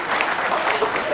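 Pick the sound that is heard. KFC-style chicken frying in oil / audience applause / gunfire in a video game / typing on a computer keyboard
audience applause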